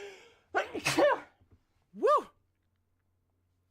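A single loud sneeze bursts out after a brief excited vocal sound, then silence.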